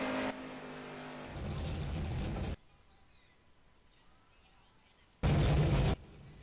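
A pickup truck crashes in a racing video game at Daytona, heard as loud bursts of roaring engine and impact noise, then a quieter stretch, then another short, heavy blast.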